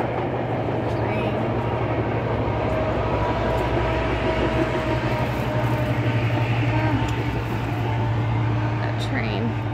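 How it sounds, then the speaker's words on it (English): A train passes at a distance beside a summer garden harvest, a steady low rumble that holds for the whole stretch with faint higher tones riding over it. "That train."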